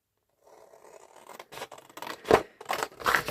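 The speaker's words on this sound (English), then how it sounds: "I just couldn't get my scissors right." Several crisp scissor snips cutting through paper, close up, the cuts growing louder and quicker toward the end.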